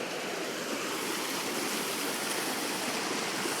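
A large mountain waterfall stream rushes down the slope, a steady broad wash of flowing water heard close and continuous for a few seconds, with no voices.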